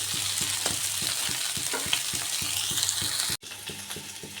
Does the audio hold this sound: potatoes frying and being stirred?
yes